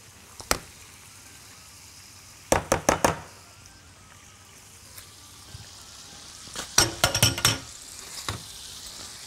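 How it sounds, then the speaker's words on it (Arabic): Onions being stirred in a pan while they caramelise: scattered clusters of sharp scrapes and clacks from a utensil against the pan over a low sizzling bed, close, with quiet gaps between bursts. "نقلب كده البصل."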